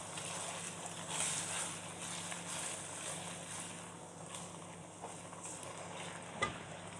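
Sautéed food with sugar added is stirred in a pan, a soft continuous sizzle with faint scraping strokes and one sharper knock near the end, fairly quiet and close, no talking.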